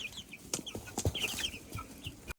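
Chickens in the snow give close, soft clucks and chirpy calls in quick succession against a quiet outdoor background, with scattered pecking or scratching sounds.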